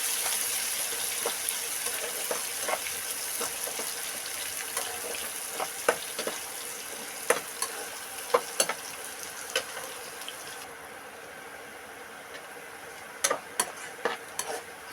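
Thinly sliced onion frying in a pan while cooking Telugu-style broad bean rice, with a steady soft sizzle, close by, broken by scattered sharp crackles and spatters.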